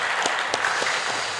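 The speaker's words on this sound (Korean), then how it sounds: "하나님께 한번 감사와 영광의 박수 한번 올려드릴까요?" A church congregation applauds together in a dense, sustained patter of many hands, fairly close and even, with a few sharper individual claps standing out.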